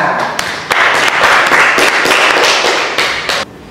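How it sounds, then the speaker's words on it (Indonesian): Classroom applause as students clap for their classmates, a loud, dense burst of many hands close by, sustained for a few seconds and then cutting off abruptly. "Tepuk tangan ini untuk teman-temannya"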